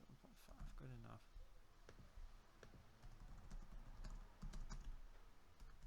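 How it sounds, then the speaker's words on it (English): Keys clatter on a computer keyboard in bursts of quick clicks throughout, with a person talking at moments over the typing in a quiet room. "I don't like typing the same number 3 times."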